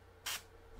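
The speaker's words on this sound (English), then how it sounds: "you can even come back a little bit and spray from a distance" An airbrush gives one short, soft hiss of sprayed paint from a distance during a glazing demonstration, brief and quiet, with no speech.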